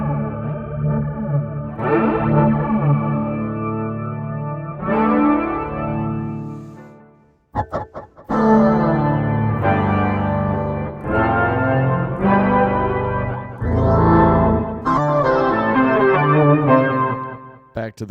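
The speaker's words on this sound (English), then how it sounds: "Let's switch over to the flanger here." A Yonac RoxSyn guitar synth played through a flanger effect, sweeping, whooshing chords and sustained notes with a swirling jet-like modulation, loud and close, broken by a brief pause midway.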